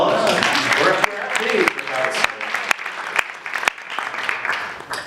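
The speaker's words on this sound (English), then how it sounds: "I want to give yourself a round of applause" A crowd claps in a burst of applause, loud and close, with sharp claps standing out as the clapping continues.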